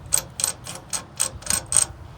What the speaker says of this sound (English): You loosen this nut up like so.